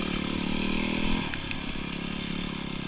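Yamaha WR250R dirt bike ridden along muddy trails in the rain, its single-cylinder engine droning steadily up close with shifting throttle, a brief surge then a lower steady pull, with light clatter and scraping from the trail.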